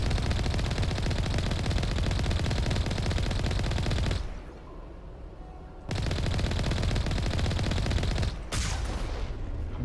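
Rapid automatic gunfire from the video game Mass Effect 1 rattles in sustained loud bursts, drops away for a couple of seconds midway, then resumes with a brief break near the end.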